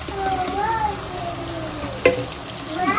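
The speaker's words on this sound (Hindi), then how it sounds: "हम इस टमाटर को भी इसके साथ भुनने देंगे मसाले के साथ" Masala and tomato purée fry together in an oiled pan for a chilli potato dish, giving a steady close sizzle with scraping stir sounds and one sharper knock near the end.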